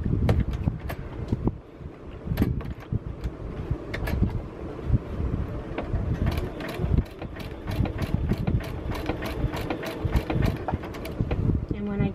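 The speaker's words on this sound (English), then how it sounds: "I'm going to pivot and do the other side of the foot." A sewing machine zigzag-stitching a fusible applique: a steady mechanical whir with rapid rhythmic ticking of the needle, close up, pausing briefly and resuming, with some speech present.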